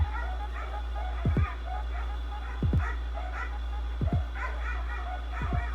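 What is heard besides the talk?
dog barking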